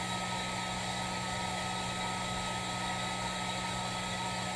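A hair dryer blowing continuously with a steady whooshing hum and a low motor drone, close and unchanging throughout.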